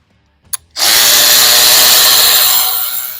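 A power tool spins up to remove a 10mm nut on an Aprilia Tuono 660 motorcycle, preceded by a brief click, then a loud, sustained whirring buzz that fades slightly at the end.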